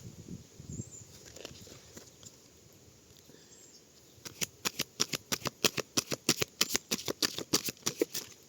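Tarot cards are shuffled by hand, first in soft irregular rustles and then in a quick run of crisp, rhythmic riffling snaps close by, with no talking.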